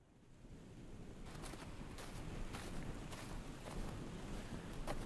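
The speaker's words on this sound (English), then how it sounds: "it's so foggy and windy." Wind blows hard in a foggy snowstorm. It makes a broad, rushing roar that builds from quiet and then holds steady, with gusts buffeting the microphone.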